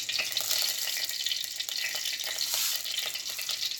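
Mustard seeds sizzle and crackle steadily in hot oil over a low flame while fish curry with tomato is started, a close, constant hiss with tiny pops and no talking.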